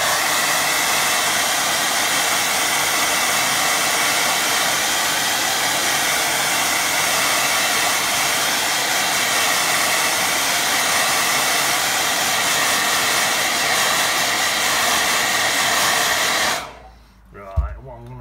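A hair dryer blows on a watercolour painting, a loud, steady close-up roar lasting about sixteen seconds before it switches off, followed by a small clunk.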